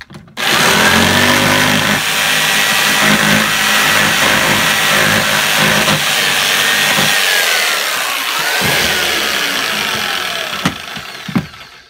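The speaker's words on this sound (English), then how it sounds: "Let's see if I can jigsaw it a little bit bigger." A jigsaw buzzes loudly and continuously as it cuts into a plastic tote to widen a hole, its pitch wavering with the cut before the saw stops.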